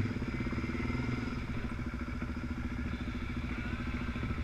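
A motorcycle engine runs steadily with a low, rumbling idle and a faint mechanical clatter, constant in level throughout.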